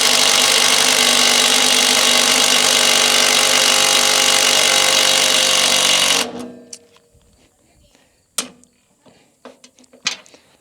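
An impact wrench hammers at bush hog gearbox bolts in a loud, continuous rattling burst for about six seconds, then stops abruptly, leaving scattered metallic clanks and knocks.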